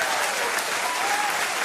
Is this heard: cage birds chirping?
no